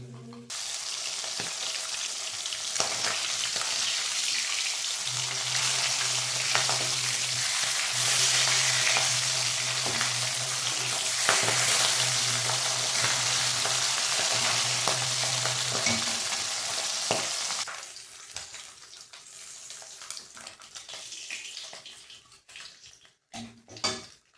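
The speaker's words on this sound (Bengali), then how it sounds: "এইভাবে আমি বাকি মাছগুলো ভেজে নিচ্ছি।" Steady, loud sizzling and crackling of pabda fish frying in hot oil, continuous for most of the clip before dropping off toward the end.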